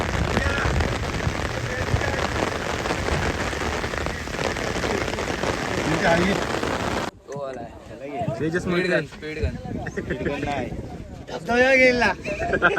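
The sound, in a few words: heavy rain falling at cricket ground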